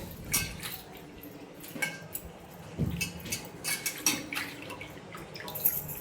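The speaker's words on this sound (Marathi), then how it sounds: "आता पाण्यामध्ये चांगलं असं सगळं आपल्याला धुवून घ्यायचं." Bitter gourds, rubbed with turmeric and salt, being rinsed by hand in a bowl of water, giving soft intermittent splashes, drips and light clinks of a metal dish, close by with no talking.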